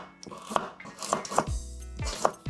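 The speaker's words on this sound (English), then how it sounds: "slice them to very, very small cubes" A knife chops carrots into very small cubes on a cutting board, giving several crisp, close-up knocks at an uneven pace.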